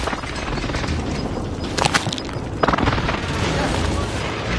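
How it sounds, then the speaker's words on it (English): Airstrike explosions in Call of Duty Warzone, a dense roar of booms and rumbling blasts with short crackling bursts near the middle, loud and close, with voices talking over the noise. "airstrike inbound"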